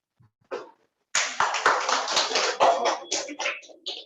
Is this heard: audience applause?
yes